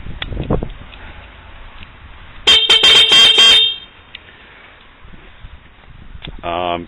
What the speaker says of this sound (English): The horn will operate.